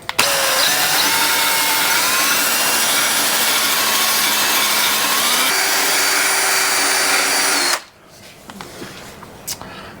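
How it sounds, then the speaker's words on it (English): A rough wire brush scrubs rust and paint from a Yamaha FZ6 steel fuel tank, giving a loud, steady, whirring abrasive roar that holds for several seconds, then cuts off abruptly into quiet with a few small knocks. "wire brush this off, a rough wire brush"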